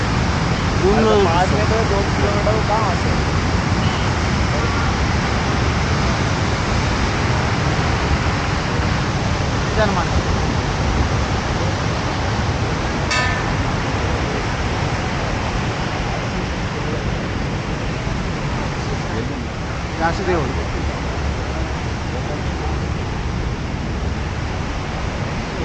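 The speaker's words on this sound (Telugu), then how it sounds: "ఈ వాటర్ ఫాల్స్ మీరు చూసుకోవచ్చు ఎంత హెవీగా ఉందో" A heavy waterfall near Mana village in the Himalaya roars as a dense, constant rush of falling water. It is loud and close for the whole span, with a voice heard faintly at times.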